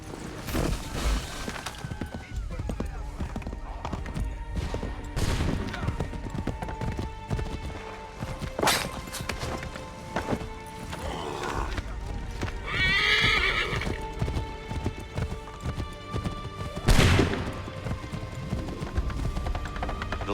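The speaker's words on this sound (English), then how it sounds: "Get on that horse." A horse in Assassin's Creed III gallops with loud, continuous clip-clop hoofbeats and lets out whinnies and neighs, with crashes and scattered gunfire in the background of the game scene.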